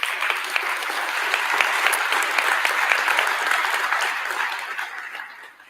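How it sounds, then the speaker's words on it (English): Conference plenary audience gives a sustained round of applause, many people clapping in a full, even roar that holds steady before fading out toward the end, with no speech on top. "Could I have a round of applause for their hard work?"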